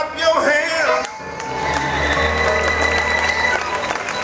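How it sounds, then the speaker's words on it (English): A concert audience at a jazz performance claps hands in a steady, dense patter beneath a singer's voice and band, the clapping spread wide and continuous through most of the stretch. "I want you to clap your hands."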